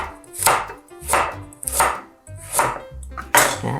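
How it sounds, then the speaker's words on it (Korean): A knife slices a carrot on a cutting board, giving about five crisp, close chops at an unhurried, even pace, with no talking over them. "당근이 7쪽 정도 썰었어요. 7쪽만 썰어서 채 썰어주세요."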